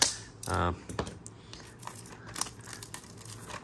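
Sealed plastic packaging around a Mini GT Nissan Skyline GT-R die-cast model car is torn open in a short crinkly rip, followed by faint scattered clicks and rustles.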